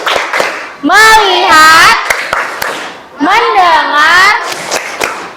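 A classroom plays the 'tepuk fokus' clap game: voices chant in rhythm, broken by sharp bursts of hand claps. There are two chanted phrases with claps between and after them.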